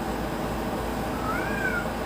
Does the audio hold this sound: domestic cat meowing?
yes